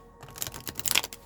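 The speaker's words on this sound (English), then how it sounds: "Let's give some shuffles here" Tarot cards shuffled by hand in a quiet room, a quick run of soft crisp riffling clicks that build to a brighter flurry near the end, close to the mic with no talking.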